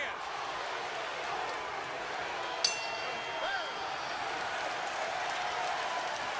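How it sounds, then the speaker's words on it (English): Crowd at a live boxing match in Washington, D.C. gives off a steady, broad roar of cheering, with a brief sharp clink partway through and no clear talk over it. "And the crowd here in D.C. is loving it."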